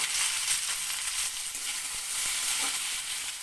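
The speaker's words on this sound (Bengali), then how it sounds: "তো প্রথমে আমি আলুগুলোকে একটু তেলে দিয়ে দিলাম, তার সঙ্গে শিমটাও দিয়ে দিলাম।" Potatoes and flat beans frying in hot oil, a close, loud, crackling sizzle that fills the short moment with steady bright spatter.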